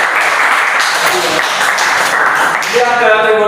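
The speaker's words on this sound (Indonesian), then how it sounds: "Tadi tepuk tangan dulu untuk 3 besar." Classroom applause for the top three students in an automotive class, a dense patter of clapping lasting a few seconds, with a voice starting to speak as it fades.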